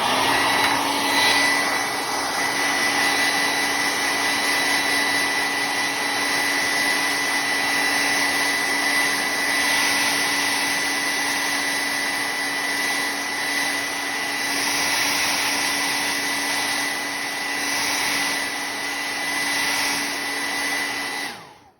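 A hair dryer blows steadily on fresh paint on a canvas along painter's tape, a loud, even whir held for about twenty seconds before it cuts off at the end.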